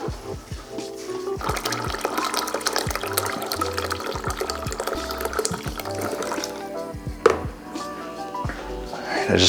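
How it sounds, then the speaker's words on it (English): Water runs from the spout of an Anvil Foundry 240V 10.5-gallon electric brewing unit during a wet-hop ale brew day, a gurgling, splashing flow punctuated by knocks and clunks, with a person talking over it. "grab a little bit of water from the spout to get in here"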